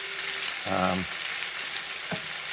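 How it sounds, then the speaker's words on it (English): Fajita onions and peppers fry in a pan with a steady, broadband sizzle that runs throughout. A brief harmonic tone sounds partway through, followed by a short clatter near the end. "I'm going to put a little bit more fry on it"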